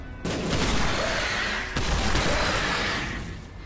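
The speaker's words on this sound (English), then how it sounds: "Too many explosions." Two heavy booming blasts in The Binding of Isaac: Repentance, the first at the start and another midway, rolling into a dense crackling rumble.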